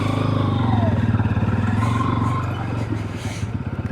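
A motorcycle climbs an off-road hill track toward Z-Point near Chikkamagaluru, its engine a loud, close, throbbing drone with rattling clatter and slight fluctuations in pitch.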